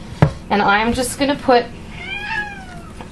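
A house cat meows several times close by, a quick run of short cries and then a longer drawn-out meow, in a kitchen with a person talking over it.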